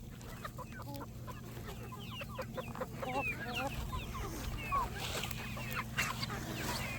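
Chickens cluck and chatter nearby over a steady low hum, with scattered bursts of clucking that grow busier toward the end.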